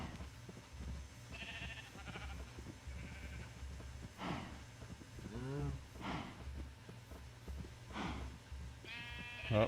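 Sheep bleating in the video game Minecraft, several short wavering baas spread across the stretch at moderate distance over a low ambient hum, with a faint voice now and then.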